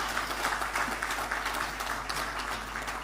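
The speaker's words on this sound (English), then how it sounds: "I think he deserves a good round of applause." A steady, dense round of audience applause at a Ghanaian media forum on broadcasting, held at an even level throughout over a faint low electrical hum.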